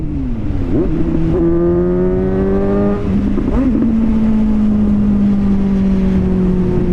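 A Suzuki GSX-S750 motorcycle engine revs hard, the pitch climbing in loud sweeps toward its redline with a brief dip between pulls, close and dominant with no talk.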